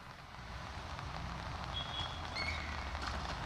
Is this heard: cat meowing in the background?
no